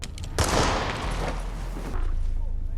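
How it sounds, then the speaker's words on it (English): A burst of gunfire crackles loudly, followed by a dense rumble of shots and echoing noise with a dramatic, cinematic feel. "After barely surviving gunfire, explosions, and whatever that last ambush was, Mason, Claire, and Venegas end up in a quie"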